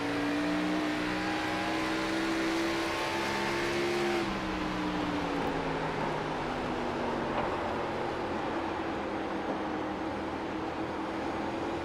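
Race cars in an Outlaws sim racing series at New Hampshire, a steady loud engine drone with rising and falling pitch as cars run together in traffic, continuous throughout without any talk.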